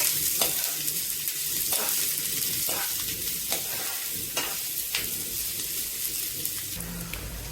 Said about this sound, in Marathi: आपल्या सर्व कट केलेल्या वेजेस टाकणार आहोत वेळी छान प्रकारे तेलामध्ये फ्राय करून घ्यायचं आहे